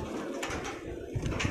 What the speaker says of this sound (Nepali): परेवाको बथान।